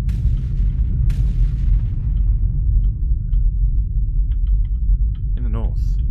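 Artillery fires in the factory game Factorio, a few heavy booms early on over a constant low industrial rumble, followed by scattered faint clicks and a brief rising whine.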